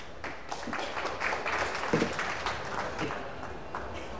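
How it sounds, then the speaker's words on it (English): Spectators at a professional pool match between Efren Reyes and Wu Jia Qing applaud, a moderate, sustained patter of clapping heard a little distant with some crowd murmur underneath. "Hear the crowd applauding."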